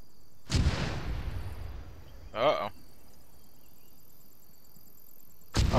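Enemy artillery rounds landing nearby in Arma 3: a heavy, booming impact with a long rumbling decay, a shorter crack a couple of seconds later, then another blast at the end, with voices over the radio in between.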